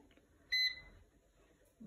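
A single short electronic beep sounds from an air fryer being switched on at close range, clear and bright against a quiet room hum.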